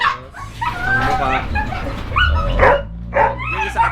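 Several Belgian Malinois dogs at a kennel bark, yip and whimper in a loud, overlapping chorus, with bursts close together across the whole stretch.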